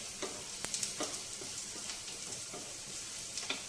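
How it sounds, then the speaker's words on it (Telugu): Onions frying in a pan for a carrot and dry prawn curry make a faint, even sizzle with occasional spatula taps and scrapes; no one speaks. "ఉల్లిపాయ చక్కగా వేగిపోయింది."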